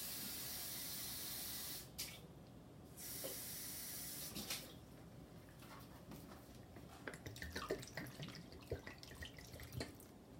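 Water is poured from a bottle into a pot of Persian stew, a faint steady hiss and splash that cuts off briefly and then gives way to scattered drips and small bubbling taps.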